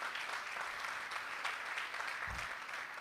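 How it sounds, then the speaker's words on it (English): A crowd at a district governor's installation ceremony applauds in a steady, even burst of many hands clapping, moderately loud with no talking over it. "Let's give them a big round of applause"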